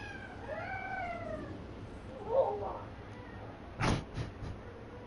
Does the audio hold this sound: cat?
yes